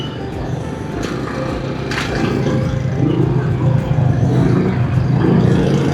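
Steady engine drone and rumble of slow, congested traffic on a Bandung street near UPI in the late afternoon, a continuous close vehicle hum with occasional revs and horn-like bursts swelling slightly over time.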